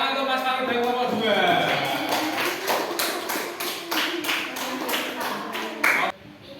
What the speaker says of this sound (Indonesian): Oke, tepuk tangan untuk Mas Farid dari nomor 2.